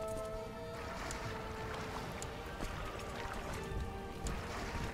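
Ships under sail in the strategy game Crusader Kings 2, a steady wash of wind and water with creaking, continuous and even, faint and without voices.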